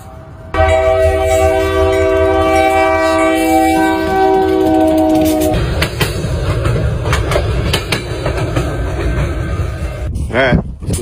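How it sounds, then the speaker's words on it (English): A train rolls over two quarters, a nickel, a penny and a dime laid on the tracks: loud, close horn blasts with steady harmonic tones give way to roaring, rumbling wheels on rail, with no talk. "Here comes the train."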